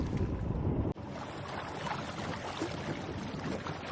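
A sailing yacht moving up the river Tamar between Cornwall and Devon, with steady broadband wind and water rush, a brief dropout near the start, then continuous moderate wind noise over the hull.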